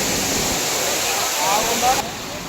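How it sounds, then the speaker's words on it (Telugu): Amboli waterfall in the Western Ghats rushes with a loud, continuous roar that fills the whole clip, steady and close, with no other sounds breaking through. "ఎంత అద్భుతంగా ఉంది ఈ వాటర్ ఫాల్స్"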